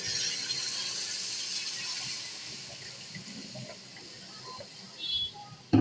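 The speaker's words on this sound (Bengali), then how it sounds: "এখন আমি দিয়ে দেবো পরিমাণ মতো জল" Water poured onto hot cooked spice paste in a pan sets off a loud hiss that fades slowly into a softer simmering bubble, close by, with a brief clatter at the very end.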